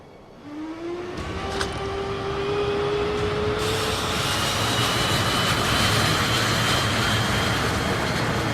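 A training jet in the Ace Combat video game spools up, its engine whine climbing in pitch, then swells into a loud, steady, broad roar as the aircraft takes off.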